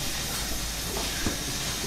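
Steam locomotive with its cylinder cocks open, releasing a steady, loud broadband hiss of steam that fills the whole clip, with faint rail and mechanical rumble underneath.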